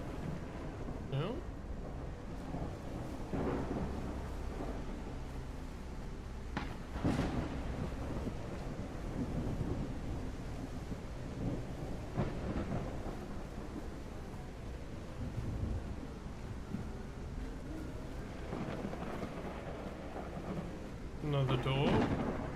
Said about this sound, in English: A storm has fallen. Use those lightning strikes to your advantage.